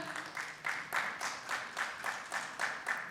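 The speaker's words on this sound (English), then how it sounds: "Please join me in welcoming with a big round of applause Mr. Indrajit Maitra" Faint, rhythmic group clapping at a hospitality panel discussion as a panelist is welcomed to the stage, evenly spaced beats heard from a distance and steady throughout.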